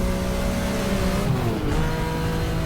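Race car at full throttle down the final long straight of the Nürburgring in the racing game GTR2, a continuous loud engine roar with a slight pitch shift partway through, no voices.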